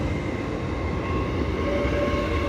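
LNER Class 801 train, unit 801-214, passing at York on the East Coast Main Line: a steady loud rumble and rolling roar of the moving train, continuous and close, with no voices.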